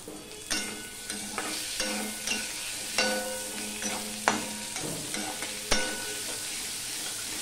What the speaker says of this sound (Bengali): টমেটোটা দিয়ে একটু নেড়ে চেড়ে নিয়েছি।